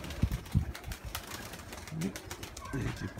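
Pigeons give a couple of soft, throaty coos a few beats apart at a dovecote, quiet and close, over faint background rustling and a low murmur of a voice.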